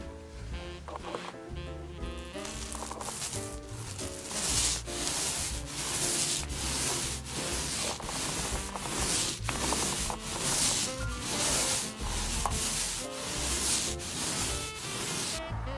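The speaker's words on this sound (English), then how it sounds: "I'm gonna roll paint onto a wall and you're gonna watch paint dry with me." A paint roller rolling paint onto an indoor wall, giving a soft rhythmic rubbing swish in repeated strokes, close and steady, with no talk.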